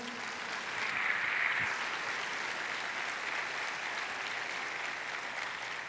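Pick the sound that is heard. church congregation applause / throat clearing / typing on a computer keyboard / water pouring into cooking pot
church congregation applause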